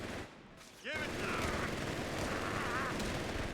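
Machine gun fire from a Panzer IV rattles in Company of Heroes 3 as a loud, continuous rapid burst of shots that starts abruptly after a quiet moment and keeps going, with a voice heard briefly beforehand.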